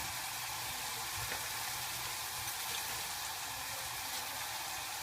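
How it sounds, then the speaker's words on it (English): Onion, paprika and garlic frying in a pan, a steady soft broadband sizzle that holds evenly throughout, with a few faint stirring clicks and no voices. "Fry the onion, the paprika, and the garlic for a while."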